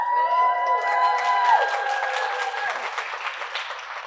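Audience at a State of the City event in Hopkins breaking into applause and cheering, scattered claps and whoops rising as a sustained tone sounds at the start and then fades, leaving a crowd roar that holds to the end.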